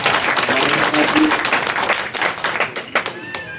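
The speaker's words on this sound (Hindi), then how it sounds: "एक बार जोरदार तालियों से" A crowd at a community event in Mumbai breaks into loud clapping, dense at first and thinning into scattered claps, with voices audible over the tail.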